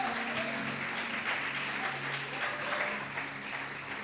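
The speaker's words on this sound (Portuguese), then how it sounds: "Pode aplaudir ao Senhor?" Worshippers applaud during a church service, a dense, even wash of clapping sustained from start to finish over faint held musical tones.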